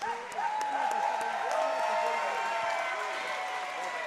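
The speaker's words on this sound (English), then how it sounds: "please put a round of applause together for both of the fighters" Crowd at a BTC 18 Next Generation fight event applauding and cheering the fighters in a steady wash of claps and crowd noise, with voices talking over it throughout.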